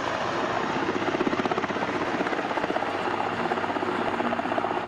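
A toy navy helicopter whirs steadily and close throughout, its rapid rotor-like buzz holding at an even level with no talk over it.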